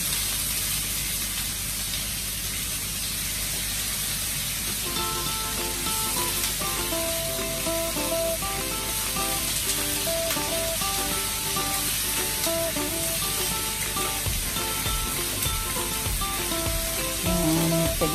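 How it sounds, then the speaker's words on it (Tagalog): Chicken sautéing in a pan for spicy Bicol Express, a steady loud sizzle and frying hiss with stirring scrapes, while music plays over it. "Gisa-gisa lang natin yung chicken."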